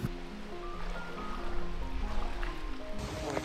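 River water flows in a steady, close wash and burble with a fairly even level, heard outdoors on an off-road van trip.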